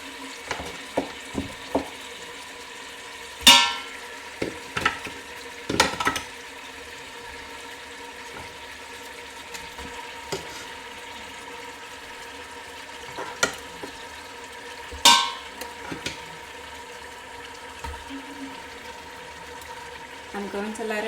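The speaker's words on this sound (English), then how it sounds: "I'm going to let it fry a little," A soup bone fries in a pot for split pea soup, a steady low sizzle running underneath while occasional sharp knocks and scrapes of stirring punctuate it, with a person speaking at times.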